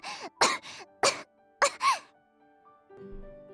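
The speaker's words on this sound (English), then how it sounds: "Yay, coughing fits." A female character in the visual novel Virche Evermore has a coughing fit: several sharp, strained coughs in quick bursts, fairly close, then a quiet musical tone fades in.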